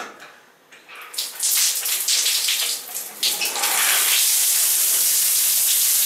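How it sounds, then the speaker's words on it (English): Hot water from a hotel shower in Myanmar starts with a few splashes, then settles into a loud, steady hissing spray lasting several seconds, with no voices. "Let's see if the hot shower works."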